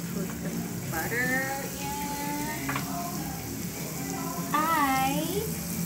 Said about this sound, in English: We obviously heat the Dutch oven and we put the butter